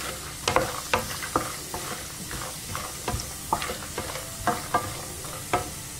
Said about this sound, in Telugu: ఎండుమిరపకాయలు కొద్దిగా వేగనివ్వండి